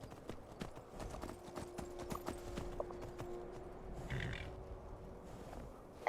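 Steady clip-clop of horse hooves at a walking pace in a VR Skyrim video game, fairly close, with a faint hum in the background and a brief bird-like call midway.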